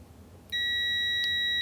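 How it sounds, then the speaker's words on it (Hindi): HTC DM 85T multimeter on continuity buzzer mode: quiet room noise, then a sudden loud, steady high-pitched electronic beep starts partway through and holds to the end. "देखिए बजर मोड"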